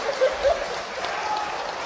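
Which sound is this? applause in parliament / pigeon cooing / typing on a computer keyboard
applause in parliament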